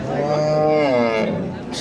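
A Sahiwal calf about a week old, at a livestock market, gives one loud, close moo that is drawn out and wavering, with faint background noise behind it.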